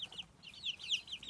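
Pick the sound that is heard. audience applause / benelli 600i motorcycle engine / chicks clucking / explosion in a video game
chicks clucking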